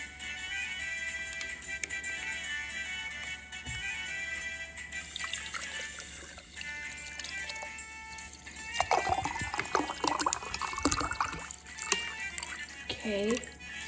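Water pours into a big glass over ice for homemade lemonade, a close, continuous splashing and trickling that grows busier toward the end, with soft background noise.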